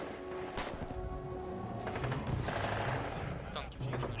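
Gunfire on a mountain in the war game Foxhole: rapid bursts of machine-gun and rifle shots crackle in quick succession, fairly distant and quiet, with a voice talking over the battle.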